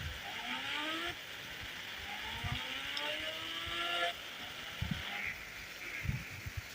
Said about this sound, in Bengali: তো এখন স্পিড বাড়িয়ে দিব। আর এই মোটরসাইকেল কিন্তু স্পিড অনেক, 250-এর উপরে স্পিড।